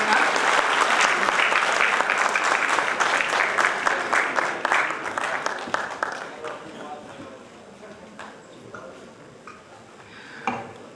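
A hall audience at a theatre group's function gives loud, sustained applause to welcome an honoured guest. The clapping is dense at first and gradually thins and fades into sparse claps, with voices beneath.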